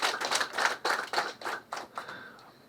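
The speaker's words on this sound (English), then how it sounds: "First clap for the speaker." A small audience at a parliamentary meeting in Ghana claps briefly for the Speaker, a short run of quick, fairly faint hand claps that thins out after about two seconds.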